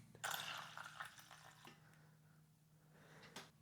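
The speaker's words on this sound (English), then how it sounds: "Then we'll add in our water to the fill line." Water is poured into the cleaning station of a Trimcoo 5-blade shaver up to the fill line, a faint trickling and splashing pour that tapers off, with a low steady hum underneath.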